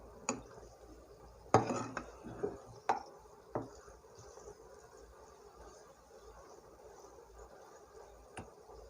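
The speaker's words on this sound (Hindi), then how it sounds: "अब हम इसको चम्मच से हिलाएंगे।" Spoon stirring potato zarda in a cooking pot, a few scraping clinks and knocks against the metal, faint and spaced out, with a quiet room hum under them.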